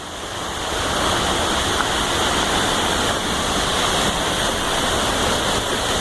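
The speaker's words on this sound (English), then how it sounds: "The waterfall's very loud, so I'm not going to say much more." A loud waterfall roars from a tunnel behind the falling water on the Eagle Creek trail, a dense, constant hiss and rush that swells in the first second and then holds steady.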